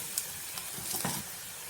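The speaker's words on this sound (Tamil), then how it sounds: "வெங்காயம் நல்லா வதங்கிடணும்." Small onions sautéing in a pan for a yam masiyal, giving a steady close sizzle with a few faint stirring scrapes and no talking.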